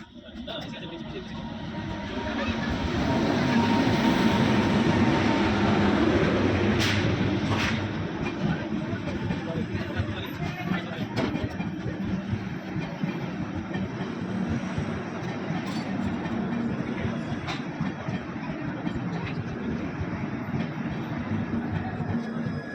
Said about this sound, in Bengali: এবং কিছুক্ষণের মধ্যেই চলে এলো ট্রেনটি